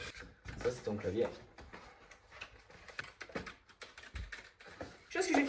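Scattered keyboard clicks and key taps, irregular and close, mixed with speech and a few louder knocks.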